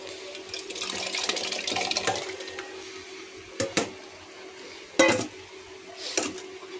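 Mashed pav bhaji vegetables are stirred in a pan, giving soft continuous scraping and wet shuffling with a few sharper clanks of the spoon against the metal, close and moderately quiet.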